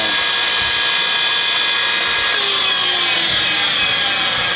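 A repaired Craftsman belt sander runs steadily, giving off a loud, continuous whining drone with a constant high-pitched motor tone and no voices.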